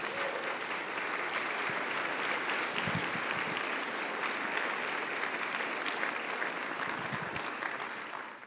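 A church congregation at a Sunday service breaks into sustained applause, a thick, even wash of many hands clapping for over eight seconds, heard from some distance and fading slightly at the close, with a brief voice near the start.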